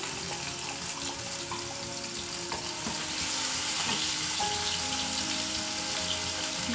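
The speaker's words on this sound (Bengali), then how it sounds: "এবার দিয়ে দিচ্ছি পেঁয়াজ, আদা, রসুন পেস্ট করে রেখেছি 2 টেবিল স্পুন।" Onion, ginger and garlic paste fries in hot ghee with a dense, steady hiss. The sizzle grows slightly louder midway and carries on close and unbroken.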